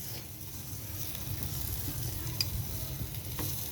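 Chili powder is stirred into food frying in a pan, a steady soft sizzle close by with faint scraping of the spoon and a light clink, no talk.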